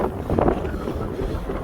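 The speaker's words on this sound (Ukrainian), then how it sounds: "Вітер конкретний." Strong wind buffets the microphone during a road cycling ride, with low, rumbling gusts, loud and close.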